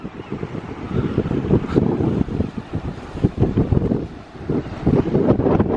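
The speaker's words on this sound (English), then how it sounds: "It's quite breezy today." Strong breeze buffeting the microphone outdoors at a semi-wild camp on the Anglesey coast, a continuous loud rumbling roar with gusty surges throughout.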